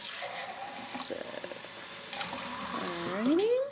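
Tap water runs from a kitchen faucet into a container, a steady close splash that swells louder near the end as the vessel fills and the pitch rises.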